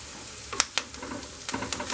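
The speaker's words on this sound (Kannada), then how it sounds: "ಟೊಮೆಟೊ ಸಾಫ್ಟ್ ಆಗೋವರೆಗೂ ಫ್ರೈ ಮಾಡ್ಕೊಳ್ಳಿ" Tomato frying with onions, garlic and curry leaves for a village-style fish curry, a close, steady sizzle with quick scraping stirs and small clicks of a spoon against the pan.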